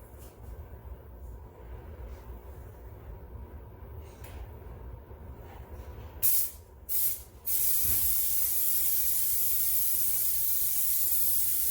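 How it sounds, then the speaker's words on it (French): Spray glue hisses from an aerosol can onto a car headliner during an at-home replacement: two short bursts, then one long, loud, steady spray that runs to the end. "ça c'est la colle. Ce que je fais, je vais spray."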